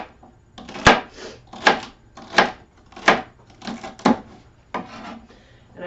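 A knife slices through a handful of green beans on a cutting board in about eight even, close chopping strokes, each a crisp crunch ending in a soft thud.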